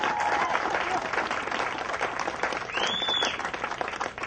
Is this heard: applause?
yes